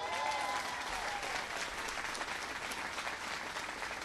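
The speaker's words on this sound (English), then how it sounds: "Give him a big round of applause." Steady, full applause from a crowd at the Jacksonville Port Authority's JAXPORT facility, dense continuous clapping at an even level throughout, with no voices over it.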